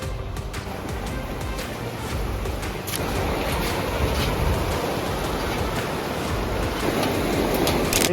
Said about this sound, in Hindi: पता नहीं कहाँ से पानी का तो आवाज आ रहा है.